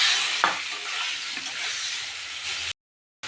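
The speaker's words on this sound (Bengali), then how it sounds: "আলুগুলো একটু ভেজে নেব" Potatoes frying in hot oil with five-spice tempering in a pan for a light fish curry, giving a steady close sizzle with a few stirring scrapes before cutting off abruptly near the end.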